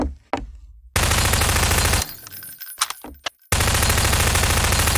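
Automatic gunfire in Prop Hunt 2 blares in long, loud sustained bursts, broken by a gap with a few scattered shots before the continuous firing resumes.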